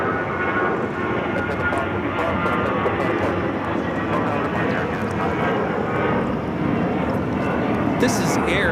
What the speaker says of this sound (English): This is Air Canada 555 taking off to Vancouver on the A321